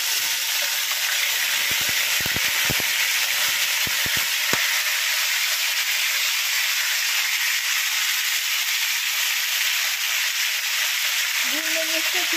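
Ginger garlic paste fries in a hot pan with a loud, continuous, even sizzle that stays close and steady, broken by a few faint clicks early on.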